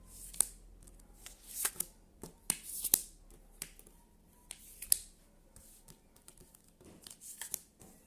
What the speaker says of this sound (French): Allez, je coupe. Et on y va. Je vais remonter les cartes.